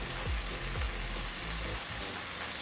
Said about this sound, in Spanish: Me gusta sofreír primero el tomate así para que no se me vaya